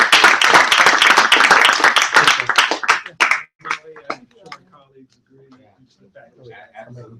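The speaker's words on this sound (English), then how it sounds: "Let's give them a round of applause." An audience gives a round of applause after a foreign-policy discussion, a dense burst of clapping that thins out into scattered claps and fades, with faint voices near the end.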